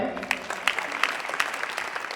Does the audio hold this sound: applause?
yes